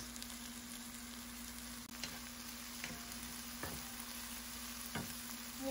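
Onion, garlic and vegetables frying in 3 tablespoons of oil in a pan, a quiet steady sizzle with a faint hum and a few soft stirring clicks.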